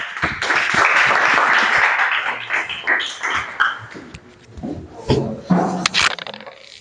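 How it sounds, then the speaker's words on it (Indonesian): A classroom of students applauds a presenting group in a mechanical engineering class, a burst of many hands that thins into scattered, uneven claps and knocks as it dies away. "silakan tepuk tangan untuk kelompok 3"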